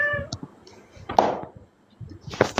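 A house cat meows a few times at close range, with short knocks and a voice in between.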